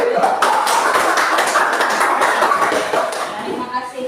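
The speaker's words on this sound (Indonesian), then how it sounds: "Tepuk tangan untuk kawannya yang sudah berani duduk." A classroom group of students claps in a dense burst of applause that fades slightly toward the end.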